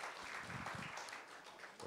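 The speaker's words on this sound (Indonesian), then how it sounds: "Berikan dulu tepuk tangan buat Tuhan." A church congregation claps at a worship service, a steady wash of applause at moderate distance with no speech over it.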